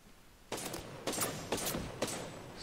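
Bursts of video game gunfire in a sniper-style shooter, four sharp volleys about half a second apart, close and loud, with no talking.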